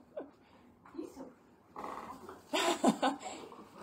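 A pet dog close by gives a few low growly vocalizations and snuffles, with a person talking softly in a home during mail unboxing.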